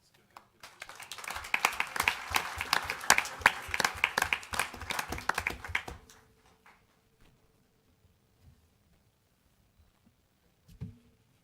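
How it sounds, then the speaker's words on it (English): A room full of people at a city council meeting applauds loudly for about five seconds, then the clapping stops abruptly, leaving near silence and a faint thump near the end. "give another round of applause for all that"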